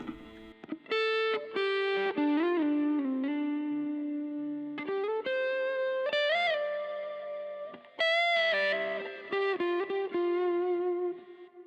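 A mixed electric guitar solo track with reverb carries bending sustained lead notes and fast runs, loud and continuous with brief gaps and no talk.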